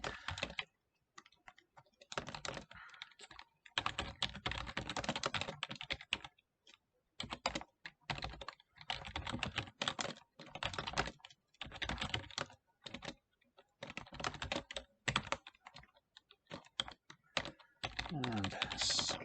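Steady bursts of typing on a computer keyboard while writing CSS and JavaScript code, with rapid close clicking in clusters separated by short pauses, no voices.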